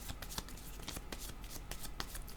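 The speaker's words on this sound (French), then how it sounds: "Je vais demander une autre carte." Tarot cards are shuffled by hand in quick, repeated soft riffles and slaps, close and faint in a quiet room.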